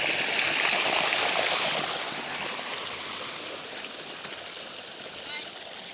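Irrigation water flowing into a peanut field, a continuous rushing wash that is loudest at first and then settles slightly, heard up close without speech.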